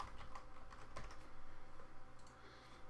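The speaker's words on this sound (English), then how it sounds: "So I'm just going to type them in first" Keys clack on a computer keyboard in soft, irregular bursts, faint and close with no talking.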